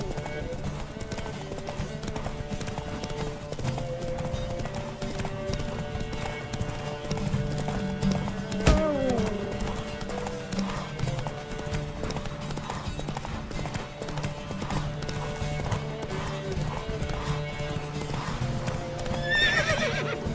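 Roach the horse gallops and neighs in The Witcher 3, with hoofbeats running steadily under game music and a sharp burst of a neigh partway through.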